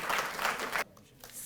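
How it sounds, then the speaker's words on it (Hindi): Audience clapping at a Delhi government ceremony honouring Tokyo Olympics athletes, a brief burst of applause that cuts off abruptly, leaving faint room noise. "तालियां बजती रहें।"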